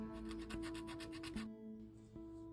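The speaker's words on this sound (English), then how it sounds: "Gotta sand it all smooth." Quick, rhythmic rubbing strokes of sandpaper scrub putty on an HO scale model church, then slow to a few scattered passes over a steady low hum, fairly quiet and close.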